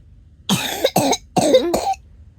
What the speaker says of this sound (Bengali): কষ্টে কাশি উঠে গেছে?